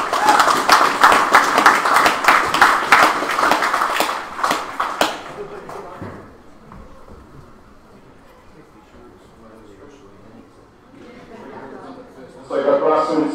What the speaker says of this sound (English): And a big round of applause for the Hautapu Club for putting on today.